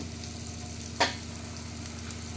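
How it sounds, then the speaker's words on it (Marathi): Onion, tomato, ginger-garlic paste and ground spices roasting together in a pan give a low, constant sizzle, with one sharp scrape of a stirring spoon near the middle of the clip and no talking. "परत हे मिक्स करून भाजून घ्यायचं"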